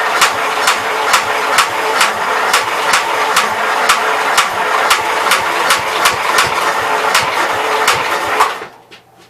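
A small engine on a 59 L, choke set about a quarter, runs with a steady mechanical drone and sharp regular knocking beats, close and loud, then cuts off abruptly near the end.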